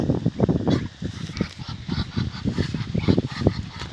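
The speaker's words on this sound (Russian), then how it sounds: "Опа. Утки, утки." Waterfowl calling repeatedly in a dense, overlapping chorus of quacks and honks, fairly close and continuous over steady outdoor background noise.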